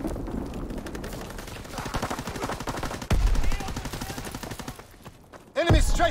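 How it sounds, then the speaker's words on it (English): Aircraft strafing run in Call of Duty WW2 multiplayer, dense rapid machine-gun fire with heavy bursts and a sudden loud impact near the end, close and intense, with game voice chatter mixed in. "Enemy strafing run inbound."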